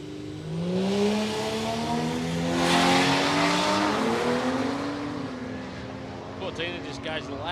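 A Ford Cortina drag car passes at Palmyra Raceway, its engine note rising and falling through gear changes as it sweeps by, with a commentator talking over the continuous racing sound.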